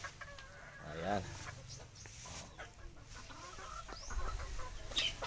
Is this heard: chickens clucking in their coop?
yes